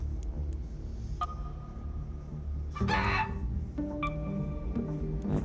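Chicken clucking in the video game ARC Raiders: a few short, tonal clucks and calls scattered over a low rumbling game backdrop, moderately loud and near, with no talk.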